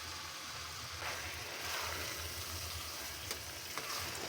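Ground masala paste and mixed vegetables with peas sizzle steadily in a hot pan while being stirred, with a continuous close frying hiss and occasional scraping clinks, no voices.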